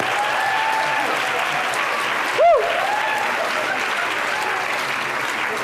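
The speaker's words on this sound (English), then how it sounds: "Round of applause" A round of applause at a conference, steady crowd clapping filling the whole stretch at even loudness, with a brief whistle cutting through midway.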